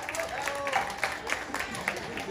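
A crowd applauds as a jury member is introduced at a local pageant, with fairly faint, scattered clapping and a few louder claps, mixed with background voices.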